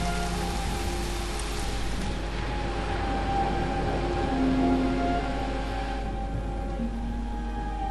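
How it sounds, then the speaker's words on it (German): Steady rain in the video game Heavy Rain patters on a surface with a constant hiss, alone and unbroken, with no clear thunder rumble. "es regnet, es gewittert"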